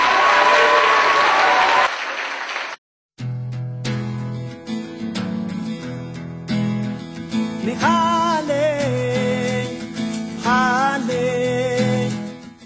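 A roomful of people applauds loudly at a school olympiad award ceremony, with a dense burst of clapping lasting about two seconds before a short silence and then music takes over.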